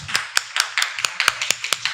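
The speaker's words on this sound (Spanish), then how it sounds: "Vamos a darles un aplauso." A small group at a Presbyterian church gives a round of applause: about ten sharp, distinct claps in an uneven rhythm, close and fairly loud, with no talk over them.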